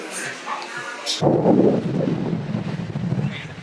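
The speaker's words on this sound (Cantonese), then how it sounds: "我而家又開始俾風吹到咧，行唔到直線咯" Strong gusting wind buffets a handheld microphone outdoors in Iceland, swelling into a loud, continuous low roar after a brief quieter start and holding steady to the end.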